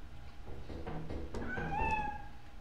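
Cats meowing inside the Lethal Company video game: a few rising, tonal meows in close succession with game noise and low rumble underneath.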